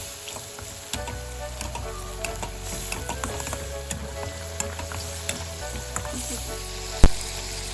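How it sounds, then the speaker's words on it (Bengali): Onion frying in a pan being mashed and stirred with a utensil, a steady close sizzle under repeated soft scraping and tapping, with one sharp knock near the end. "ম্যাশ করে নিচ্ছি পেঁয়াজটি।"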